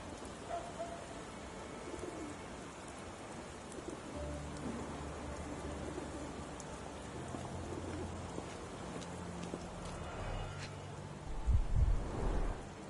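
Steady rain hisses in the background of a Victorian street scene in the video game Sherlock Holmes: The Awakened, joined by soft cooing birds and a faint low rumble, with a brief louder thump near the end.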